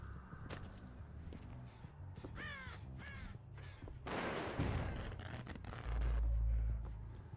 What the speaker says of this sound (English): I hear the crows indicating survivors are